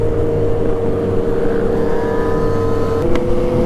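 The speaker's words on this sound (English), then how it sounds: "There goes Craig trying to race." Motorbikes race past at a Grom meet on an evening ride, a steady loud engine roar with a rising whine building midway and one passing at close range near the end.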